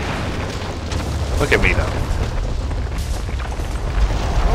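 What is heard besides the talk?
building exploding in video game Gears of War 2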